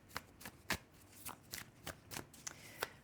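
Oracle cards being shuffled by hand, a run of soft riffling flutters and taps repeating every half second or so, close and quiet with no talking.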